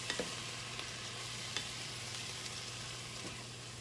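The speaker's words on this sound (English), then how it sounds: "nice little sizzle." Mushrooms sizzle steadily in a hot frying pan, a constant crackling hiss with a few soft clicks of stirring; close by, no voices.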